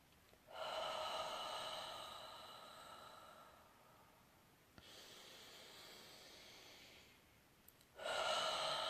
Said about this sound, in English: You can notice I'm breathing in through my nose and out through my mouth.